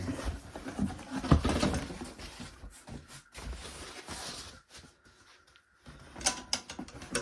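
The cardboard box of an Mgrills M80 stainless steel steak cooker is torn open up close, giving irregular ripping, crinkling and scraping bursts separated by short quiet pauses, with no voices.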